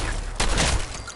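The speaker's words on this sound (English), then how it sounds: "I did shoot something in the face" A single loud gunshot in Fallout 4, a sharp blast that rings briefly over steady background game noise.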